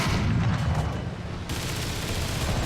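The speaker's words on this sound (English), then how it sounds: "Although he returned fire, damaged my turret ring" Enemy tank cannon fire rumbles through a War Thunder battle, a continuous heavy booming din with a sharper impact about halfway through, loud and close with no voices.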